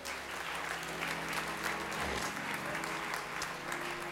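During a morning church worship service, the congregation claps in praise: a steady wash of many hands, moderately loud and continuous for several seconds, over a low hum in the room.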